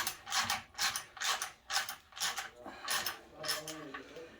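A thread tap being turned back out of a thermostat housing for a Honda K24-A2 engine swap into a Toyota MR2, giving a steady series of about nine close, dry ratcheting creaks at an even pace.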